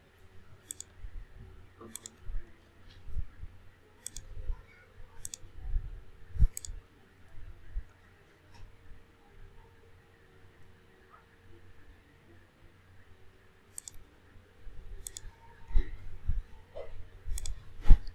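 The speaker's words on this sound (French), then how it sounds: "j'espère que vous suivez très bien comment je suis en train de cliquer" A computer mouse clicks again and again during architectural CAD modelling of church seating. The crisp clicks come one at a time or in short bursts with irregular pauses, mixed with low handling thumps, in a quiet room.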